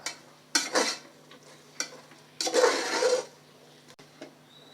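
Vegetables with salt being stirred in a pan for vegetable pulao, giving quiet scraping and clinking spoon strokes in irregular bursts, with one longer stir in the middle and small taps between.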